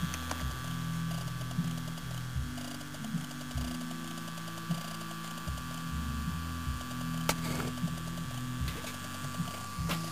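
A battery radiant charger hums steadily and quietly, with a repeating mechanical ticking, ratcheting pattern running through the low drone and one faint sharp click.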